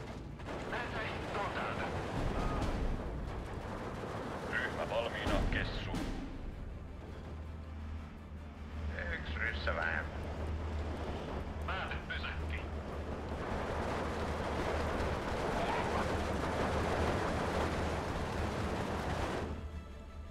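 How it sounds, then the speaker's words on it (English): Mortar artillery fire in the Second World War strategy game Steel Division II, Finnish campaign: a continuous low rumble of distant blasts and thuds under a steady battle roar, with a few brighter crackling bursts. "Looks like the mortars have decided on a target."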